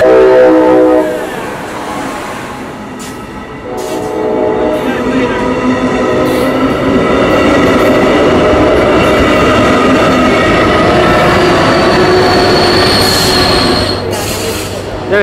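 A Brightline passenger train rolls on the rails with a loud, close rumble and sustained high wheel squeal running through most of the stretch, plus a brief horn-like tone, while a voice speaks briefly.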